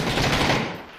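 Dense burst of automatic gunfire in PUBG on the Erangel map, loud and continuous for about a second, then fading slightly at the end with no talk over it.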